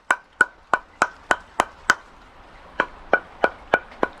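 Sharp, dry wooden knocks as dry firewood pieces are knocked together in a steady series, about a dozen hollow clacks with a short pause midway, close and clear with no talking.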